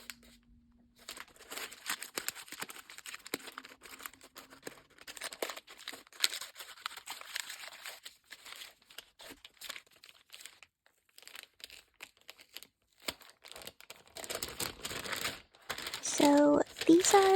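A stationery package being opened, with quiet crinkling and tearing of plastic wrapping in soft irregular bursts that grow louder toward the end.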